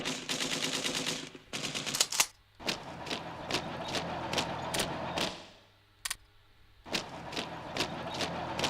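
Artillery bombardment in the World War I strategy game Hearts of Iron III sounds as dense rapid gunfire bursts and booming volleys, with repeated sharp shots and brief gaps between rattling salvos.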